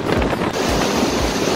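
Strong wind buffets the microphone on a bus crossing a bridge, a loud, close, steady rushing roar with low rumbling gusts and no speech.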